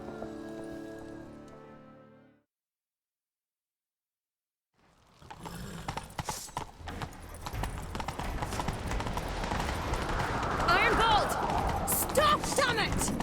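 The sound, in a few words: horse galloping while chasing someone in The Witcher 3 video game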